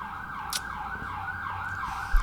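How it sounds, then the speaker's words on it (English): An ambulance siren passes near a house, its steady wailing tone sweeping up and down continuously and moderately loud, with a brief thump near the end. "There's about one ambulance every day that comes through at the same time."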